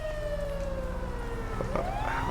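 Fire truck siren in the LSPDFR police video game, a loud continuous wailing tone sweeping slowly downward then rising again, with engine rumble underneath and brief clicks near the end.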